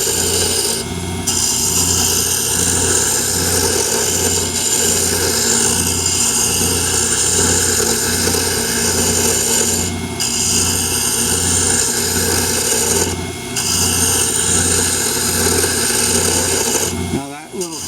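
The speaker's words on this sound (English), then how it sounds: "Now that little chattering is starting to occur right now." Chattering from a lathe tool cutting a thin dip pen blank on the lathe, a steady rasping, buzzing scrape with a regular pulsing rhythm that runs loud and continuous close by and cuts off at the end.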